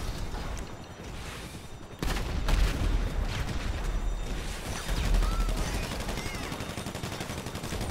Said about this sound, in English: Compact grenade launcher time.